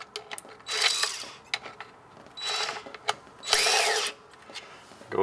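A cordless drill snugs screws on a Sta-Rite pump, three short whirring bursts with clutch ratcheting, separated by quiet pauses and small clicks, close by.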